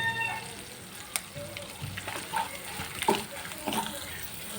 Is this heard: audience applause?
no